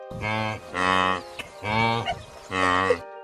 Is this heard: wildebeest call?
yes